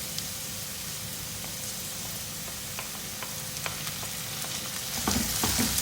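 Sliced onions with garlic-ginger paste sizzle and fry in a pan for potato samosa filling, a steady close crackling hiss with occasional stirring scrapes, swelling louder near the end.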